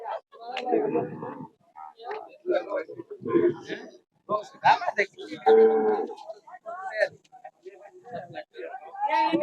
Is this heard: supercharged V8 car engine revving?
no